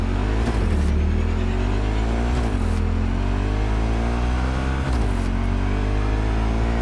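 A car in Cyberpunk 2077 cruises through Night City, its engine droning loud and steady with several rising gear-shift sweeps, no voices over it.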